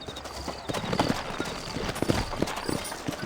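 Horses' hooves clip-clop in a steady, uneven rhythm at moderate volume in the video game Red Dead Redemption, set in New Austin.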